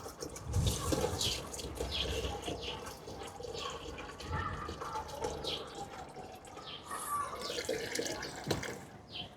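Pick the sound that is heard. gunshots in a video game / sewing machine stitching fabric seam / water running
water running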